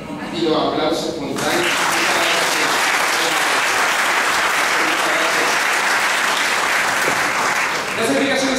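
An audience breaks into loud applause after a magic trick at a show on entrepreneurship; a speaking voice comes first, then dense sustained clapping swells in and holds steady to the end.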